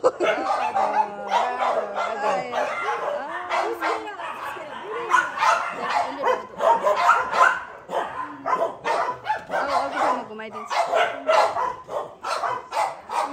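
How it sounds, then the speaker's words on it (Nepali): Many dogs bark, yip and whimper continuously in a kennel where biting dogs are kept inside, a busy chorus of overlapping barks at close range with people talking among them. "यो भित्र चाहिँ अलि टोक्ने कुकुरहरू चाहिँ भित्र राख्यो"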